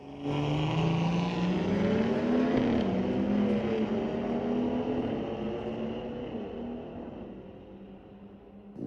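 A BMW street-legal drag car accelerates hard down the strip at a raceway, its engine a loud sustained roar with rising pitch that gradually fades into the distance.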